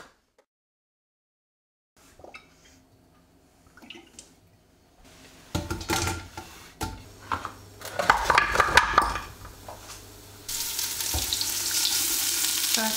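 A vegan meat substitute starting to brown in a pan; quiet handling at first, then a rising sizzle with stirring and pan clatter that settles into a steady frying hiss.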